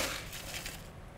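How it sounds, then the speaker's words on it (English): Ice pours into a glass for a mint julep as a brief, close rush of crunching and clinking, with no talk. "fill up your glass with your ice."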